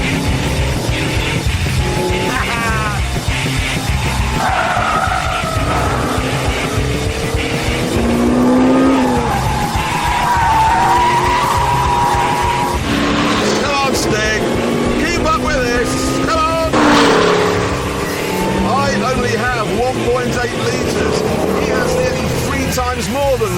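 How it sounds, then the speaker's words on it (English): A 2006 Lotus Exige S races on a short circuit, its engine revving up and down through the gears with occasional tire squeal, loud and close, while someone talks over it. "stand by for a 2-lap race of our short circuit. This is sushi versus a hamburger."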